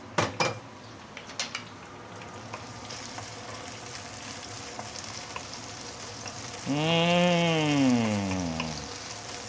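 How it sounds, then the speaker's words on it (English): Fresh herbs and dried chili sauté in hot oil in a wok with a steady, close sizzle. A few sharp clinks come early, and a loud whining tone rises and falls near the end. "Once the oil is heated up, we put in all the fresh herbs we cut just now, and let's saute a bit."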